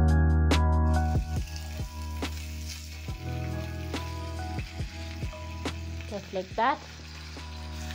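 Bacon fries in a pan with a little added fat, sizzling and spitting in uneven bursts over background music while a voice speaks briefly.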